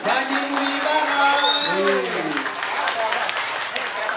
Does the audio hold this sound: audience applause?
yes